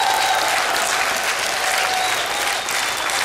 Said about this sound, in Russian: судя по тому, как аплодируют зрители